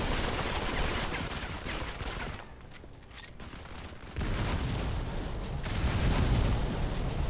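Grenade blasts and gunfire crackle through a Modern Combat 5 mobile match, a dense continuous barrage of bursts and booms with a brief lull midway before the noise surges back loudly.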